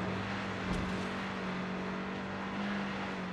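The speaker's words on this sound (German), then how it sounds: "Schön in den roten Drehzahlbereich gedonnert." A car engine in the video game Far Cry 6 holds a high, strained rev into the red line with a steady buzzing drone, fairly faint and continuous, no talking over it.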